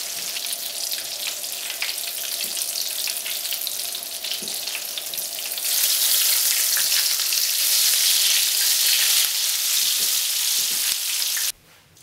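Meaty, cheesy polpette balls fry in hot oil with a dense, loud crackling sizzle that swells louder halfway through and then stops abruptly near the end.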